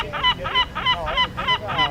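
Seagull calling repeatedly, a rhythmic series of about seven harsh nasal honking squawks evenly spaced, loud and close.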